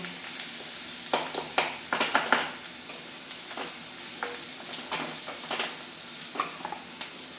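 Onion, chili, cumin and peanuts frying together in a pan for a tempering, giving a steady crackling sizzle with sharper spits and pops scattered through it, close and fairly loud, with no talking.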